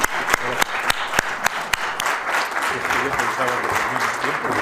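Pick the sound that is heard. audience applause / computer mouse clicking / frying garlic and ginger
audience applause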